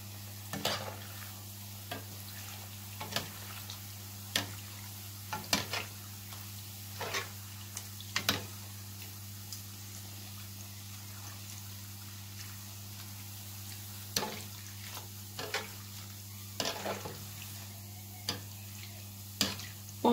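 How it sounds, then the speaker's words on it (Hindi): Gulab jamun balls fry gently in hot oil, a soft, quiet sizzle over a steady low hum, punctuated by scattered sharp ticks and pops. "अब हम इन्हें फ्राई कर लेंगे।"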